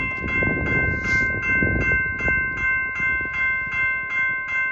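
A rumbling train passes near a crossing with steady rhythmic General Signals Type 2 bell rings repeating about twice a second over the rolling noise.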